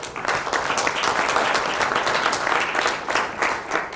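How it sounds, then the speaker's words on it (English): An audience at a school board meeting applauds steadily, a dense wash of many hands clapping at close range that holds at an even level throughout without any voices. "may you please have a round of applause for her"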